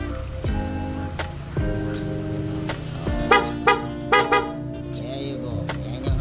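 Short horn beeps from a Honda Click scooter sound several times in quick bursts, close and loud, over a steady engine hum with some clicking noises in between.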